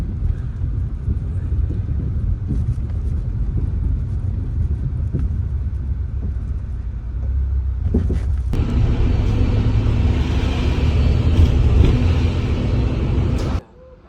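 Road traffic rumbles from inside a moving car, a steady low engine and tyre drone that swells and grows brighter partway through before cutting off abruptly near the end.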